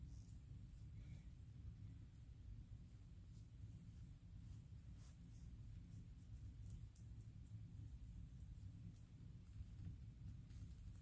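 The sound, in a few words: thunder from a storm outside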